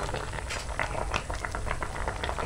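Corn kernels boiling in a pot of water, with a steady bubbling churn and quick popping bursts throughout, fairly close and alone.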